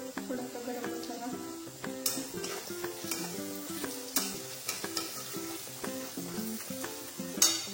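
Masala with garam masala and red chilli powder sizzles in a pan on low heat for prawn biryani, a steady soft frying hiss broken by regular scraping and clinking strokes of a spoon stirring against the pan.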